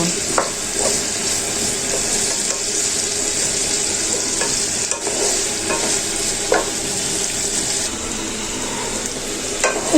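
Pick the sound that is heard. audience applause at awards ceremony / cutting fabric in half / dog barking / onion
onion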